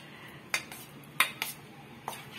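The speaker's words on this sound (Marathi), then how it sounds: "मावशी त्याच्यात व्यवस्थित मिक्स करून एक जीव करताय" A spoon stirs sabudana khichdi in a pan, with a few sharp, separate metallic knocks and scrapes against the pan over a quiet background and no talking.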